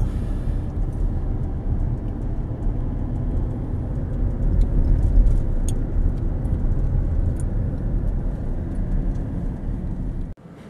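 A car drives around Mirror Lake in the Adirondacks, its steady low engine and road rumble continuous and fairly loud, ending abruptly near the end.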